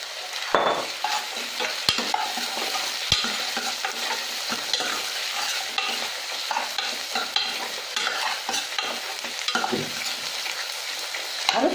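Tomato and onions stir-fried in a wok give a steady loud sizzle, broken by scraping and knocks of a spatula against the pan, close and continuous with no talk.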